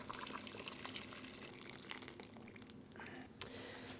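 Hot water pours into a pan of braised beef for Taiwanese beef noodle soup, a faint continuous splashing and trickling over a few seconds with a small clink near the end.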